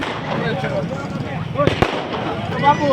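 Firecrackers and fireworks during a Shiv Jayanti celebration at Bhavani Chowk in Kej town, with a sharp bang rising above a dense, noisy festive crowd.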